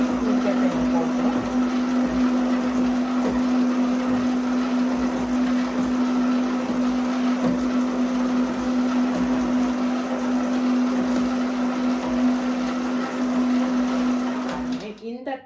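A kitchen mixer runs continuously while blending pizza ingredients, a loud steady motor whine with a strong constant hum for about fifteen seconds before stopping.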